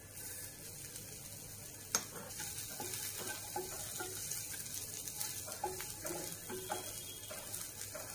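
Garlic and green chillies sizzle softly in a pan, a faint steady frying crackle with a few light clinks and stirring scrapes scattered throughout.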